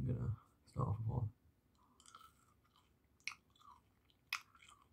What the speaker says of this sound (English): And I will be like doing chewing it with like my mouth open.